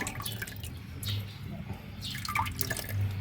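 Water drips and trickles into a crayfish tank as the tank water is diluted, with irregular close splashes over a faint low hum.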